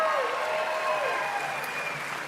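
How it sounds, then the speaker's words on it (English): Sustained crowd applause at a Tucson campaign rally for Democratic vice presidential nominee Gov. Tim Walz, steady and fairly loud throughout, with a faint tonal whine drifting over it. "Give her a big round of applause."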